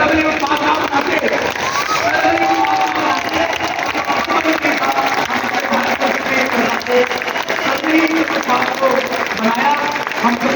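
Dense, steady audience applause fills a business presentation hall, many hands clapping continuously and loudly with scattered voices and cheers mixed in.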